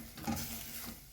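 Mince and broken-down tomatoes cook in a pan, a soft sizzle under a brief stirring scrape, close and quiet with no talk.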